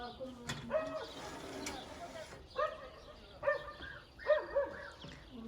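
A dog barks in a few short, muffled bursts at a distance, mixed with birdlike cooing tones and soft background voices.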